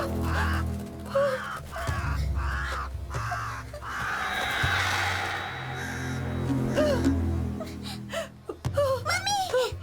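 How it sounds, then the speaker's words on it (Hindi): Crows caw repeatedly in harsh, nasal calls, loud and close, mixed with frightened gasps and whimpering voices and people talking over a low background drone. "बस एक कौवा है"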